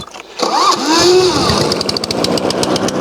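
A petrol lawn mower engine cranks and catches, then settles into a loud, close, rapid running putter with a bright whine on top.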